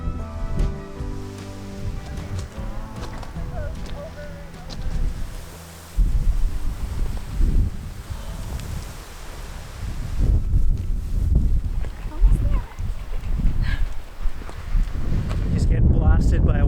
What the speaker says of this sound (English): Just get blasted by a wall of wind as soon as you come up over the pass.